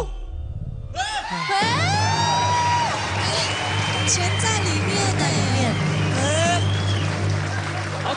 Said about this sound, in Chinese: 大家不要忘记你们掌声加尖叫